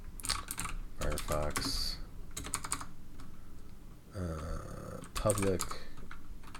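Quick bursts of clicking keystrokes on a computer keyboard, close and fairly quiet, broken by short pauses while a person talks over the typing.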